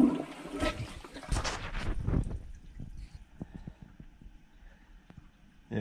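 A toilet flushes with a loud rushing gurgle of water that tapers off into scattered drips and trickles as the bowl refills, heard up close in a quiet bathroom.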